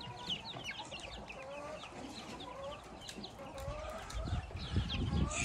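Young chicks eating in a garden, with many soft clucks and high cheeps scattered throughout at moderate distance over a quiet outdoor background.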